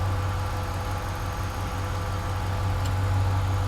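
A 2013 Ram 1500 with the 5.7-litre Hemi V8 idles steadily, giving a smooth, even low rumble at close range with no voices over it.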